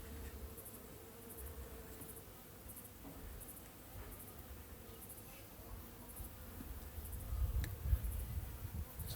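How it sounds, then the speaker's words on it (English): Honey bees hum inside a mini nuc hive, a soft, continuous close buzz with no voices, swelling slightly toward the end. "They're good hard-working bees"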